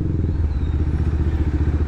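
A motorcycle idles in heavy Philippine traffic with its cooling fan running, a steady low rumbling drone close by that holds without a break, with no speech.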